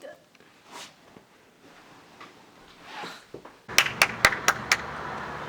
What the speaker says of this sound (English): What's that clapping?